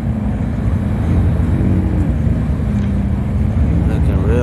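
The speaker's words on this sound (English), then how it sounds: "Another McLaren coming through here." A McLaren sports car rolls past at a car meet with a loud, close, steady engine roar that holds throughout, over busy outdoor background noise.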